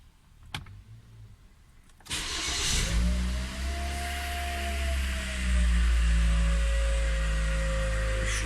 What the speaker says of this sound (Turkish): Aracımız koşuyor yolunda.